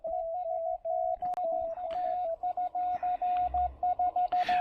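Slow Morse code CW on a ham radio, a clear steady tone keyed in dots and dashes at a deliberate pace, with faint static and a short burst of noise near the end.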